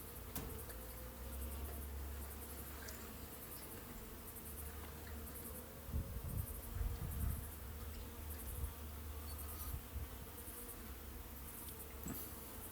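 Honey bees buzzing steadily around an open mini nuc hive during a colony split, a continuous close drone with louder swells near the middle and no talking.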